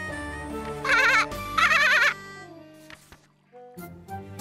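Two loud, wavering sheep bleats sound in quick succession in the video game Labyrinth of Refrain: Coven of Dusk, each about half a second long, over soft game music and followed by quieter clicks and tones.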